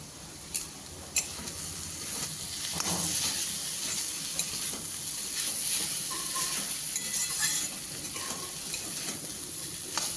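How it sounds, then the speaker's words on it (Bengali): Fried data shak greens are stirred together with chili mustard oil in a pan, giving a soft continuous sizzle with scraping and stirring clatter and a few sharp taps near the start. "লঙ্কার তেল খুব ভালোভাবে শাকের সঙ্গে মিশিয়ে নিতে হবে।"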